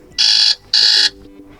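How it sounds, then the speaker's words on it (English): Two identical harsh electronic buzzer blasts from a Motorola Edge 50 Pro alarm ringtone, each about a third of a second, separated by a short gap, loud and close. "pick one of those sounds. Like for example, buzzer alarm."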